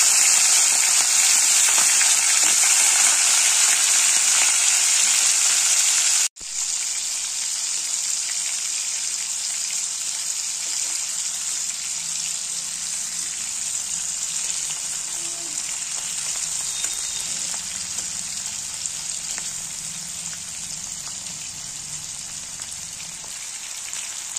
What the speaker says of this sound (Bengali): প্রথমে লবণ দিয়ে মাখিয়ে রাখা চিংড়ি মাছগুলো ভেজে নিতে হবে।